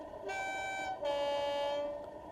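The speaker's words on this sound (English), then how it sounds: "Let's listen to what the horn sounds like." A model railway locomotive's sound decoder plays a horn through a small speaker: two sustained, multi-toned blasts, the second longer, clear and loud against a quiet background.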